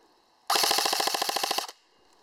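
An ARES Amoeba S-Class M4 airsoft gun on a 9.6 volt battery fires one full-auto burst of just over a second, a rapid, even, close buzz-rattle of about fourteen shots per second that stops abruptly.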